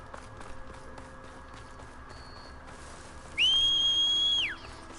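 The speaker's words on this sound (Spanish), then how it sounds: "El silbato tiene la niña, nen." Whistle blown by the girl in Horizon Forbidden West, a single loud, clear sustained tone of about a second after soft running footsteps in the game.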